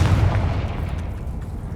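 A deep, muffled boom from a Confringo or Bombarda spell blast in the Hogwarts Legacy video game rolls out low and loud, then fades into a rumbling tail over the short clip.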